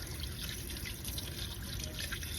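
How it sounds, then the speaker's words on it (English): Steady running water flows from a tap while dentures are rinsed, a dense continuous splashing rush with no talking. "and then we're gonna rinse this off."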